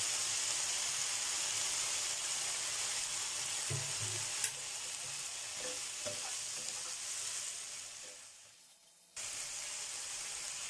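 Minced pork with pumpkin, a little cannabis leaf and a splash of water sizzles steadily in a hot pan while being stirred, with scraping strokes throughout, a brief drop in the hiss near the end, then the frying resumes. No one talks.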